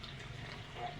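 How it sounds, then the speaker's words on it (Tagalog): Water running into a fishpond, a steady close splashing flow of liquid, brief and continuous without talk. "Nagpapatubig na tayo mga kabukals."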